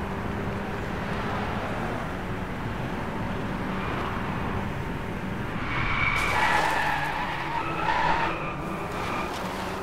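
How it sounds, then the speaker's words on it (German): A car in the racing game Driveclub drifts with a steady, loud engine drone and rising tire squeal that swells toward the end, continuous throughout with no talking. "Drift auf 200 Punkte. Total ungewollt, aber gut."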